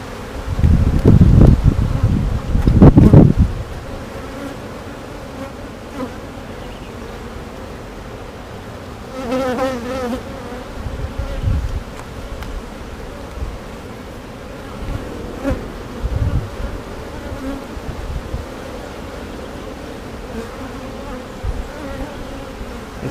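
Honeybees hum steadily around hive frames during a beekeeping inspection, a dense, continuous buzz with a few louder handling knocks early on and brief swells of closer wingbeats.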